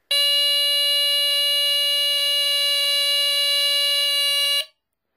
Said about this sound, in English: now I'll test the photoelectric sensor